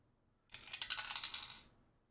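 A hundred-sided die drops through a skull-shaped dice tower, giving a close, bright clattering rattle of rapid small knocks that lasts about a second and fades, with no voice.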